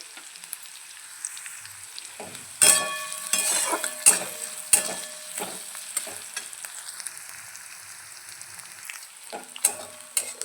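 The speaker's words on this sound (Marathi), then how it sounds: "आपला कांदा घालायचा आहे यामध्ये तो पण गुलाबी कलर येऊपर्यंत छान असा परतून घ्यायचा आहे" Chopped onion sautéing in hot oil in a pan for kids' tiffin poha, with a soft steady sizzle and several louder stirring scrapes and clinks of a spatula against the pan.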